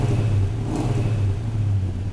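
A 1973 Plymouth Duster 340 V8 with carburetor, MSD ignition, headers and a MagnaFlow 2.5-inch stainless mandrel-bent exhaust idles close by, a steady deep burbling rumble with a strong low hum.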